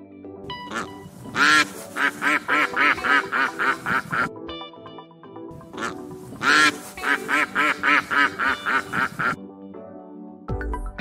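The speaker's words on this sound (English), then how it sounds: "Duck." A duck quacks in two loud, rapid runs of repeated nasal quacks, close and clear, separated by a short gap.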